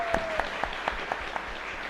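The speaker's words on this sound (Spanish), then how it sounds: "Y un fuerte aplauso entonces." Applause from a church congregation during a live Mass at the Capilla San Blas chapel in Villa Elisa, a steady patter of hand claps filling the room with a few sharper, louder claps standing out.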